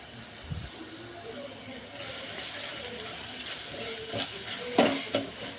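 Ginger garlic paste sizzles softly in a pan over low heat while a spoon stirs and scrapes it, with a few brief clinks and a louder scrape near the end.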